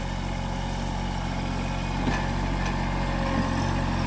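A Mahindra tractor engine runs at a steady idle nearby, a continuous low, even rumble with no talking over it.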